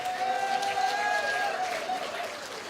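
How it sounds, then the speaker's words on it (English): An audience applauds MP Shaun Chen at an event: a broad, steady wash of crowd clapping sits under tonal voices or music, moderate in level and continuous throughout. "Let's give Shaun a big round of applause."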